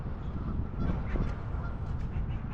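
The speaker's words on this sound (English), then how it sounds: "Ducks in the dumpster." Ducks gathered in a dumpster give off a steady run of loud, close honking and quacking calls, overlapping one another with no pause across the stretch.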